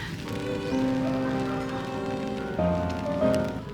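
Steady rain falls in an herb garden in Kobe, a constant close hiss of drops on leaves and surfaces, with tonal background sounds above it.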